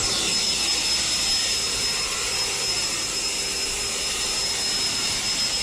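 A Worx WG543 20V cordless leaf blower runs on its high volume setting, giving a steady, loud, close jet-like whoosh with a high whine and no change over several seconds.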